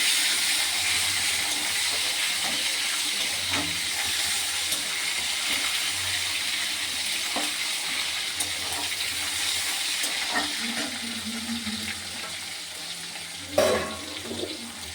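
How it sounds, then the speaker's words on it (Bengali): Tomato frying in hot oil, part of a soybean and pointed gourd curry, gives a steady broad sizzle throughout, with faint occasional clinks and a brief louder clatter near the end; no voices. "টমেটোটা একটু গলবে তেলে দিলে।"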